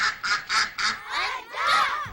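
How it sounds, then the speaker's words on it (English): A duck quacks behind a door, a run of four short, loud nasal quacks followed by two longer, drawn-out ones. "It is a duck indeed."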